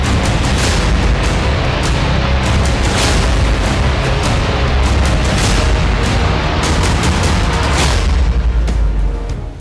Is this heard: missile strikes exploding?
yes